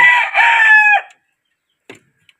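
A rooster crows once at a chicken coop, a loud, close, harmonic call lasting about a second, followed by a couple of faint short clucks.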